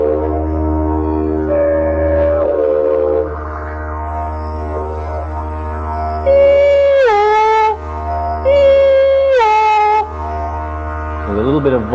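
A droning didgeridoo with voiced whoops imitates a braying donkey, rising and falling in several loud, honking bursts over a steady low drone.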